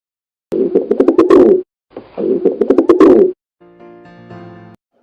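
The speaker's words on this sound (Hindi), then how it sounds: "Yes, it's a pigeon" A pigeon coos in two throaty, rolling phrases, loud and close, followed by a fainter buzzy tone.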